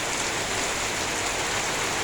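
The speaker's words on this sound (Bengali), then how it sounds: "দেখুন কি প্রচুর বৃষ্টি।" Dense, even hiss of heavy rain pouring down without a break, loud and close.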